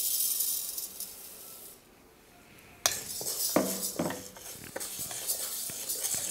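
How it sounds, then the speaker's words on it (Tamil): A steady hiss, a brief lull, then close scraping and stirring as toor dal is dry roasted in a pan, punctuated by sharp metallic clinks of a spoon. "அதுக்கடுத்தது துவரம்பருப்பு வறுத்து எடுத்துக்கலாம்"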